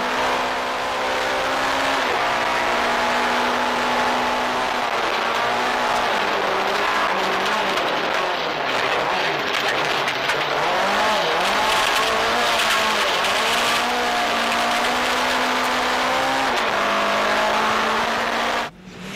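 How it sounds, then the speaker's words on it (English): A Ford Escort BDA rally car races hard on a New Zealand stadium stage, its loud engine screaming close by through rapid gear changes and rising and falling revs, with some tyre noise, until an abrupt end. "Escort BDA, showing just how fast these old cars can still be driven"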